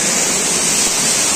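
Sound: waterfall

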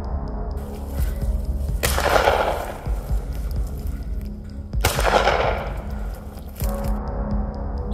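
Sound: warning gunshots

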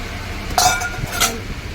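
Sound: bowls and utensils clinking while being handled

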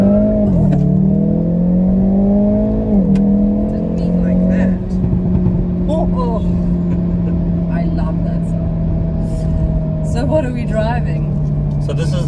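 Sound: Hyundai i30 N car accelerating

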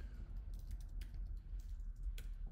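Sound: typing on a computer keyboard

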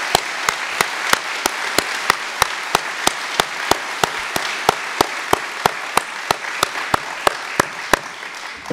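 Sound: audience applause for Republican legislators

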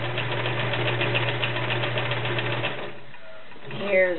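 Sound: vintage 1947 Kenmore sewing machine sewing a stretch stitch

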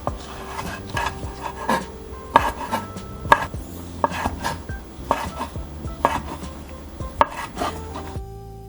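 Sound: knife cutting crab sticks and sausage for gimbap

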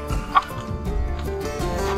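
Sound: chickens clucking

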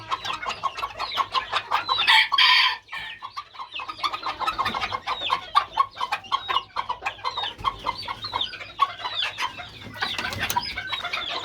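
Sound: serama chickens clucking while being fed

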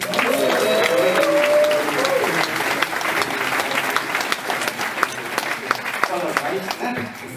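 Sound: audience applause welcoming Emilio at festival

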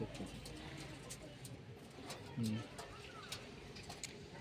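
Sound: pigeon cooing

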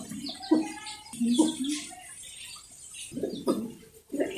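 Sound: pigeons at a pigeon farm

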